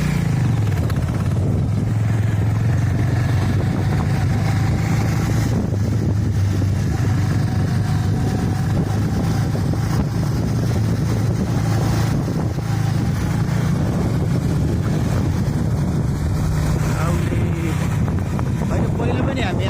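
A motorcycle rides along a rural Nepali road between Manahari and Aule, detouring around flood and landslide damage; a steady low engine rumble runs throughout beneath heavy wind buffeting, with faint voices mixed in.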